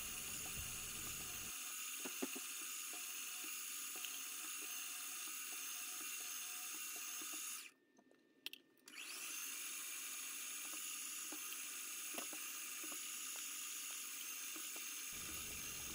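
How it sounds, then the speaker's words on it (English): Drilling holes in metal on a milling machine, a spot drill then a drill for tapped 4-40 screw holes in a small engine part; a steady, loud whirring machine drone runs throughout with a brief pause near the middle. "Spot drill and drill each of the holes for a tapped 440 screw."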